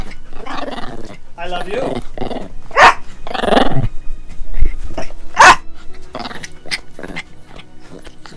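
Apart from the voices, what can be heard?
angry dog growling and barking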